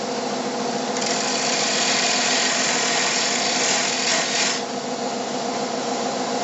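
A wood piece turns on a lathe while a chisel cuts a tenon on its end, making a loud, steady rasping whir that grows harsher for a few seconds in the middle, then eases back to a smoother drone.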